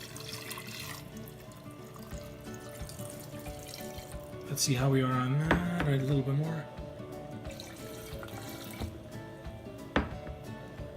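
Water pouring into a cold brew coffee pitcher, two cups filling in a short steady burst midway, with a voice talking over it before and after.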